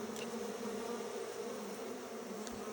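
Honey bees buzz around a beehive, a steady, close droning hum of many insects that stays constant throughout with no speech.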